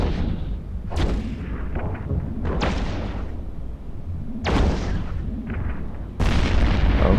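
Heavy weapons fire in the EVE Echoes space game as a Thorax cruiser is destroyed: four or five deep booming blasts with rumbling tails, loud and close, no talk.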